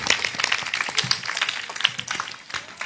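A church congregation claps loudly at a confirmation service, a dense, steady wash of applause that carries on for several seconds with no talking.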